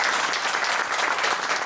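An audience in a parish hall applauds a woman, dense continuous clapping from many hands filling the whole short moment at steady loudness.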